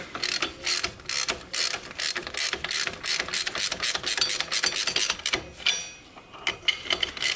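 Rapid ratchet clicking from a 14mm socket turning fasteners on the rear suspension bearing carrier of a Honda Sportrax 300EX quad, a close, steady stream of pawl clicks in short bursts with brief pauses.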